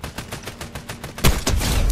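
Rapid gunfire from Fortnite, a run of quick regular shots followed by a louder heavy burst, close and sharp, with no talk over it.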